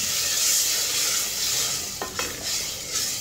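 Tomato and green chilli paste hits onions frying in a pan for Hyderabadi masala chicken, giving a steady broad sizzle with brief stirring scrapes, close and loud, no talking.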